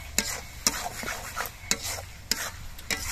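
Masala spice paste with tomato, salt and sugar being stirred and fried in a pan: a steady sizzle broken by several sharp spoon scrapes at regular intervals, close up.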